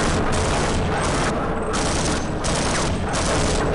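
Grenade explosions and rapid gunfire from Half-Life: Opposing Force fill the soundtrack with dense, loud, continuous bursts of booms and shots, with no talking.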